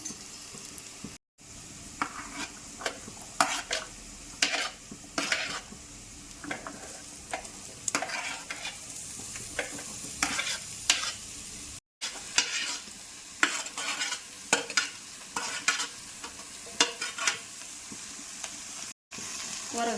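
Bottle gourd and carrot pieces stir-fried in a pan for a curry, a steady sizzle broken by repeated scraping stirs at an uneven rhythm, close and fairly quiet, with brief silent gaps.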